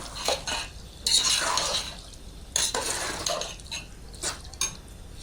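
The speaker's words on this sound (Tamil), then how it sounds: "போட்டு அடி பிடிக்காமல் எல்லாம் மிக்ஸ் பண்ணிகிட்டே இருக்கணும் நம்ம குருமா" Beef biryani kurma being stirred in a pot, with repeated scraping and clinking of a metal spoon against the pot in uneven bursts, close and fairly loud, with no talk.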